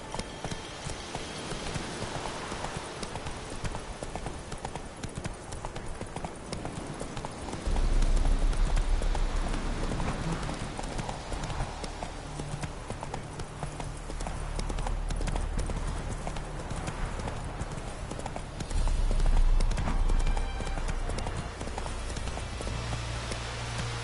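Steady galloping horse hoofbeats from riding in The Witcher video game, a continuous rapid clip-clop that runs the whole time with a fuller, louder stretch midway, plus faint game ambience.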